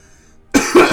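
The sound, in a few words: coughing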